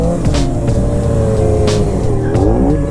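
A motorbike engine holds a steady idle, running close and loud with a constant rumble. Its pitch rises and falls slightly, and no one speaks.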